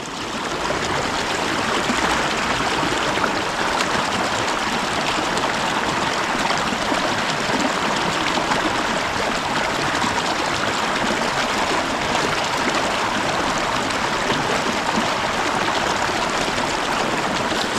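Water drains through a Millbank filter bag, pouring and trickling steadily for a long stretch, a constant close splashing rush like a small stream with no pauses.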